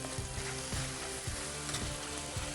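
Onions frying in a pan on a cooking show, a continuous sizzle with regular scraping strokes of a spoon stirring them roughly every half second, close and fairly quiet, no talk.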